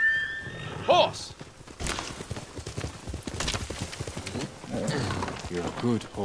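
A horse in the video game Ghost of Tsushima gives a short whinny, followed by game sound of hooves and movement, with an animal roar and a voice at times.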